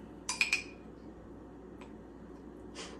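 A utensil clinks a few times against a container while an almond butter protein shake is mixed, quick bright taps at first and a couple of softer ones later, close and otherwise quiet.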